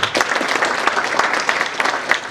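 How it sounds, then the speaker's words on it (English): Applause from the audience at a technical training institute conference, acknowledging the principals and representatives: a steady, dense patter of many hands clapping at close range, continuing without break. "Let's give them a clap."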